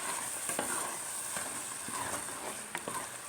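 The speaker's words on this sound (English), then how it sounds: "And you stir again." Seasoning is stirred into a grilled goat meat stew in a pot: a soft, continuous sizzle with quiet, irregular scraping stirs, fairly faint and with no talking.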